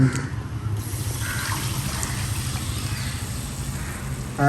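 Tamarind water pours steadily into a pan in a continuous watery stream, close by, with a low hum underneath and no voices.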